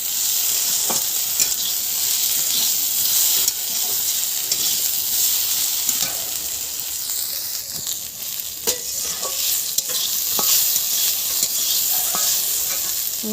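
Steady, loud sizzling of rohu fish frying with spices in a pan, with occasional scrapes and clinks of a spatula stirring, no talking.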